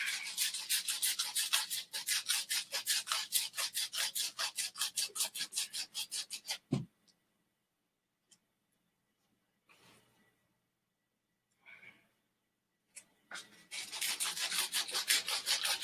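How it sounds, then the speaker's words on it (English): Rough sandpaper rubs rhythmically along a wooden wand in a fast run of close, steady rasping strokes, then stops, leaving near silence with a few faint knocks before the quick sanding strokes resume. "with a little bit of rough sandpaper, we see a wand begin to take shape"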